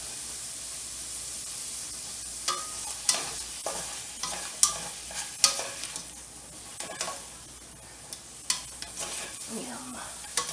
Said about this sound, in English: Let those onions cook for just a minute or so.